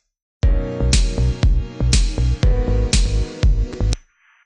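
A repeating clap sample soaked in heavy reverb hits in a steady rhythm of punchy bursts, loud and washed out, ending with a short fading tail.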